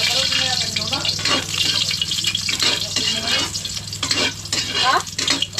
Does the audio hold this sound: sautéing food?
yes